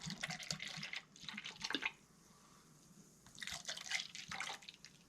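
Mountain Dew Baja Gold soda poured into a glass, a soft watery splash and trickle in two bursts separated by a quieter pause, close and faint.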